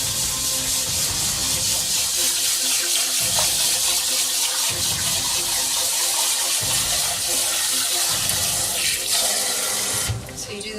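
Rice being rinsed under running water at a kitchen sink: a steady close faucet stream with rhythmic rubbing and swishing of grains, pulsing in regular strokes, ending abruptly near the end.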